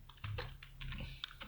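A run of close keyboard clicks on a computer, uneven taps in short bursts with a low background hum.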